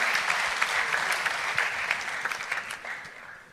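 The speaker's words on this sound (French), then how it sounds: "On applaudit Elliot." An audience claps for a few seconds, a steady patter of many hands that is moderately loud and fades slightly toward the end, with no voices over it.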